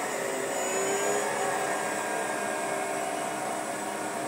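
A Southwestern Industries CNC vertical mill spindle spins at its top speed of 4,000 RPM, giving a steady, loud high-pitched whir and broadband machine hum that holds constant throughout, with no talking.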